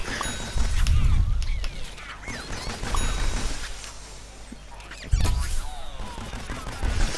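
Foot soldier weapons fire in the shooter game Plants vs Zombies Garden Warfare 2: bursts of loud, punchy shots with booming low impacts and metallic pings, separated by short gaps.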